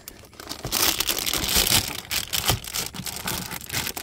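Loud crinkling and crumpling of a stiff plastic-like minivan window cover being pushed and wedged into place, continuous rustling with a few sharper crackles.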